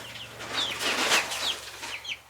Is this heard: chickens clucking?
yes